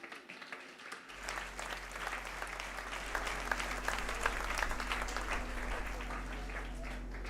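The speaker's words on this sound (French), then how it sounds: "Bye bon Dieu un bel applaudissement" A church audience breaks into applause after a sermon line, the clapping starting abruptly and building into a steady, full round that continues to the end, with a low hum beneath.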